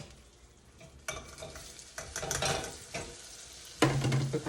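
A spoon stirs sugar melting into butter in a pan to make a carrot glaze, a soft bubbling sizzle with scraping strokes and a light clink, quiet and close with no talking.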